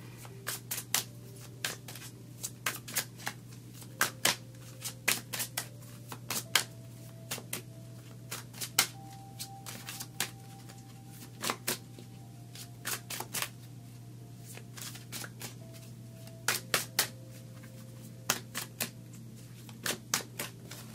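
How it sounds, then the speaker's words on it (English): Tarot cards are shuffled close up in a quiet room, a long series of crisp riffling clicks and slaps in irregular bursts over a faint steady hum. "Let's pull some more cards to get some more explanation."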